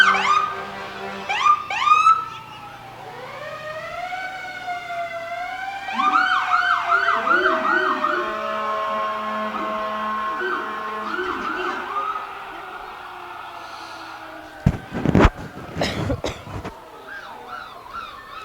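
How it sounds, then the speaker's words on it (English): Fire trucks and other emergency vehicles pass in a Christmas parade, their sirens wailing and yelping loudly with overlapping rising and falling tones, then short horn blasts and bursts near the end, outdoors with no talk. "And we can't compete with the sirens anyway."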